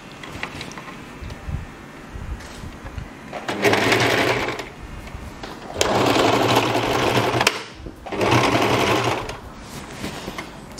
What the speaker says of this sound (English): So you start to sew